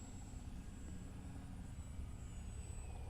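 A small trainer model airplane takes off and flies, its engine a faint, steady droning hum with a thin high whine over it, heard from a distance.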